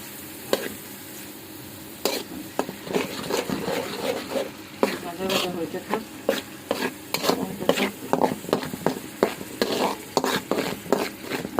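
Bottle gourd leaves frying in a pan with a constant sizzle, punctuated by repeated scraping and clacking of a utensil stirring against the pan.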